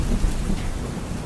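Rain pattering on a car window as a storm approaches, a dense, loud, steady wash of drops with no voices.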